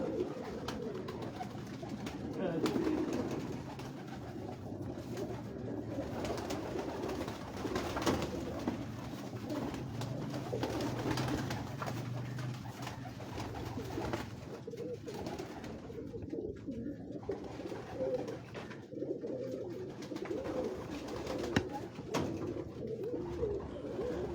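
Soft, repeated cooing of pigeons on a Lahore rooftop blends with a faint background murmur, steady and low for the whole stretch.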